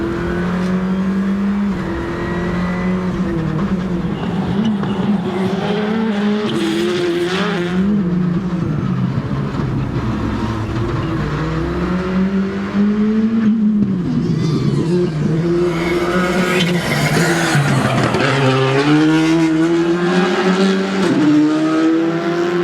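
Race car engine roaring loudly and continuously once the drive program is switched on, pitch rising and falling with throttle through the run, with no talk over it.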